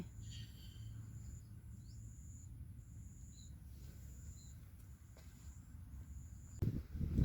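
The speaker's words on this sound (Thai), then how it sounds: "มีเสียงจิ้งหรีดด้วย" Faint crickets chirp in short repeated bursts against a quiet outdoor background, ending with a soft rustle.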